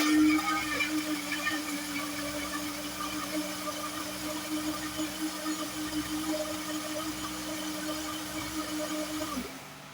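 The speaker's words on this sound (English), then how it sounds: "I also blended together with all of them some onions" Kitchen blender pureeing onions and turmeric for coconut rice: a steady motor whir with a churning wet texture, close and constant for several seconds before cutting off abruptly.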